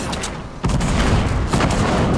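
A grenade explosion in a video game, a heavy booming blast that lands sharply and rumbles on, with scattered gunfire layered over the dense, loud battle noise.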